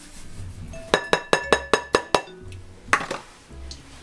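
A spoon strikes a mixing bowl in seven quick, evenly spaced ringing clinks while sugar is added, then a couple more scattered knocks, close and clear with no talking.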